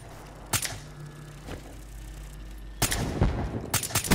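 Gunfire whips and cracks past the player during a Call of Duty: Black Ops III sniper match: a sharp burst, a fainter one, then a louder cluster of close, rapid snaps near the end.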